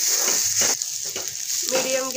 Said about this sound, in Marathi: कांदा छान लालसर होईपर्यंत आपल्याला परतून घ्यायचा आहे